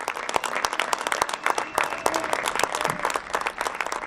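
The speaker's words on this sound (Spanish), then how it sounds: "Un aplauso a nuestros paisanos migrantes." Applause for migrants bursts from a rally crowd at the Banco del Bienestar completion event in Apizaco, Tlaxcala, with dense, sustained clapping that swells and dips over four seconds and no speech.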